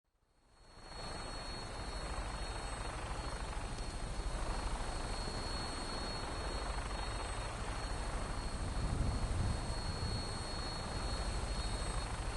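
In the video game Fallout 4, an aircraft in flight gives off a continuous loud, rumbling engine and rotor roar that swells up at the start and then holds steady throughout.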